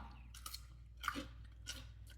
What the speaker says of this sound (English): So I can crunch on a cucumber.